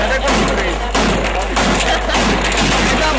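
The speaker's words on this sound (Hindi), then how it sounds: "शॉटगन को रीलोड किया एंड कमाल की फायरिंग हो रही है भाई" Dense shotgun and pistol fire at a Pakistani wedding, rapid overlapping shots forming a loud, continuous fusillade with no break, recorded close and harsh.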